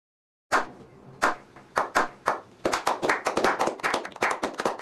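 A single person claps nearby, starting with a few slow separate claps and then speeding up into a rapid run of claps, with no talking.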